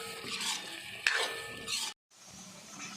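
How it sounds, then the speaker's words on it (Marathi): Ground masala paste roasting in oil for a chicken curry, with a stirring and sizzling texture that scrapes steadily, breaks off into a short silence, then resumes more softly. "मसाला आता तुम्ही बघू शकता छान भाजून होत आलेला आहे याला तेल सुटायला देखील सुरुवात झालेली आहे"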